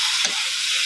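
Food sautéing in a hot pan in a home kitchen, a brief close burst of bright hissing sizzle with a soft stir, no voices.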